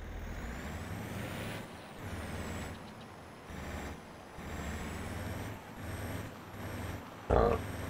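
A truck towing a trailer parks in Farming Simulator, its engine rumbling steadily with dips as it slows, ending in a short sharp hiss of air brakes near the end.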